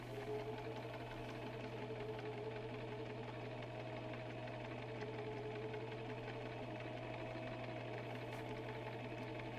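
Sewing machine stitching fabric for a thrifted suit, a steady fast mechanical whir with a constant low hum running evenly throughout, close and moderately quiet, no voices.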